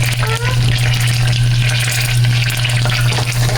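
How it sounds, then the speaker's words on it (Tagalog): Ginger frying in a pan as the base for ginataang hipon, a steady loud sizzle right up close, continuous with faint stirring scrapes and a low steady hum underneath. "I put now the ginger first"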